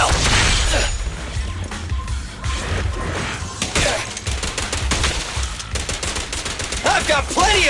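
Rapid gunfire bursts from a Zenless Zone Zero video game battle, loud and dense, mixed with crashes and impacts that repeat in clusters across the whole stretch.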